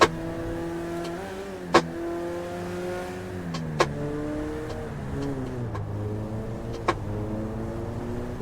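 A fire-damaged Honda Civic engine revs in the video game GTA 5 while driving at speed through heavy traffic, its loud steady drone rising and falling through repeated gear shifts with sharp clicks between.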